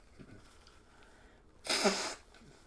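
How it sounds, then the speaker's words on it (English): One short, breathy sneeze bursts out, sharp and fairly loud against a quiet room, with faint background noise before and after. "Now all of a sudden I'm sneezing."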